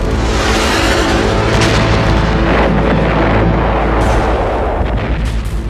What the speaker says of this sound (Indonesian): Ledakan mengguncang hutan Kalimantan